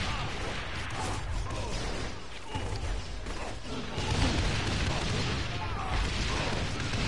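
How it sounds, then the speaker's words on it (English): Grenade launchers fire repeatedly in a Saints Row The Third Remastered firefight, with loud booming blasts and crashes continuing throughout amid chaotic combat noise, while players talk over the action. "They keep shooting grenades."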